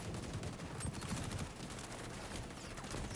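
Gunfire rattles in the video game XDefiant, with quiet, rapid, dense bursts of shots blending into a continuous faint clatter.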